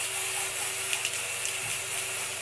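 A continuous hiss of a spray bottle spraying onto a wig runs steadily for a couple of seconds, close and fairly loud, with a faint mechanical tone underneath.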